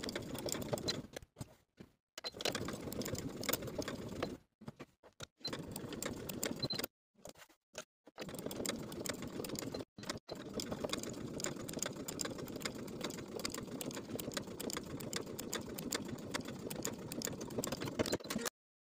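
A sewing machine stitches down the open edge of a shirt placket in bursts of rapid mechanical whirring, stopping and starting several times with short pauses between runs.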